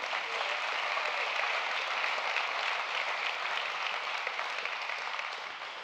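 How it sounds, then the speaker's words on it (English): Steady audience applause for board members at a community charity event, a continuous dense clapping that stays loud and even before tapering slightly at the end, with no voices over it. "How about a round of applause for them?"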